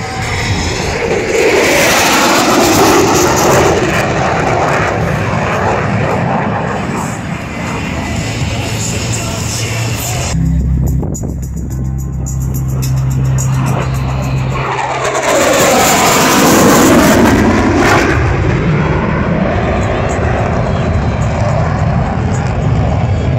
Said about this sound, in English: Ladies and gentlemen, from the right, the Super Hornet photo pass.